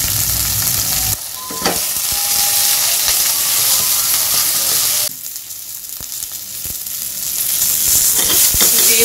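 Ingredients for peri peri sauce fry until golden brown in a pan, a steady loud sizzle with occasional stirring scrapes, the hiss briefly dropping and swelling twice; no one speaks.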